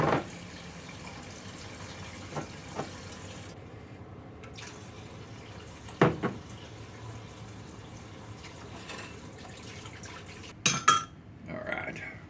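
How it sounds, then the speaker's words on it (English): A spatula covered in buttercream is rinsed under hot running tap water in a home kitchen. The water hisses steadily and a few clear knocks of the utensil ring out against the sink. "I'm going to clean this off under some hot water."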